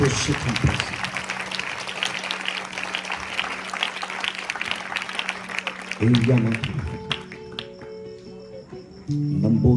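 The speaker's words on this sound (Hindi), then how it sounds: "इसके लिए जोरदार तालियां बजाइए" A congregation claps loudly and steadily at a church healing service in Faisalabad. A dense burst of applause fills the first six seconds, then fades into quieter tones and faint voices.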